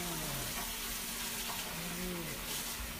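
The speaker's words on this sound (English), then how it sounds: "I'm gonna give my hands a quick wash." Kitchen tap water runs steadily as hands are washed, a continuous hissing splash that stays close and fairly loud, with faint background sounds.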